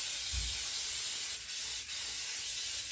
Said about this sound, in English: We're going to get a good spray because we do not want our cake sticking like this.